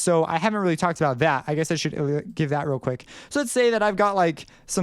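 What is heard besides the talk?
No everyday noise stands out behind the speech.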